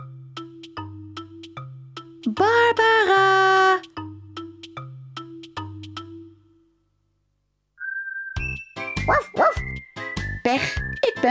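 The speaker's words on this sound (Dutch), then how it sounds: "jij bent een jong hondje, een puppy" A cartoon puppy in a Miffy children's show gives a series of evenly spaced, clear yaps, broken by a brief whistle-like tune, then falls silent before lively chiming music and more barks return.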